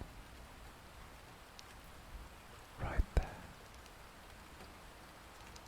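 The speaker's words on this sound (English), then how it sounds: "Only the sound of the summer rain" Soft summer rain falls in a steady, faint hiss, with a brief whisper and a couple of close clicks partway through.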